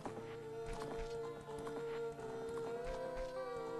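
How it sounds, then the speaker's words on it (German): Epona the horse trots in Zelda Ocarina of Time, quick clip-clop hoofbeats under a bright melodic game music loop, fairly quiet throughout. "Das Pferd hier heißt Epona."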